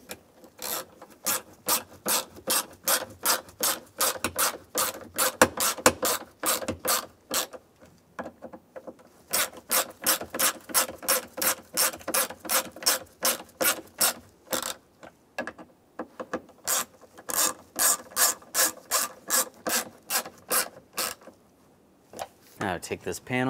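Repeated rhythmic ratcheting clicks in long runs with brief pauses, close and fairly loud, as screws for a sun visor are snugged down inside a 2002-2008 Dodge Ram 1500 cab.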